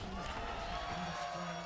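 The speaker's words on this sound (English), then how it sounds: "crowd goes wild" Esports arena crowd cheering loudly during a League of Legends pro match, a dense, steady roar of voices filling the space throughout.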